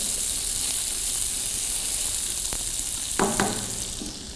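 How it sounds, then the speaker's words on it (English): Sliced onions frying in a pan for a Delhi-style butter chicken, a steady loud sizzle close up with a couple of brief stirring clinks near the end. "Here goes in some sliced onions."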